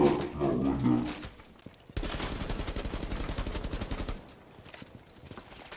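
Gunfire in Rainbow Six Siege: a sustained rapid burst of automatic shots over about two seconds, loud and close, following a louder muffled stretch at the start.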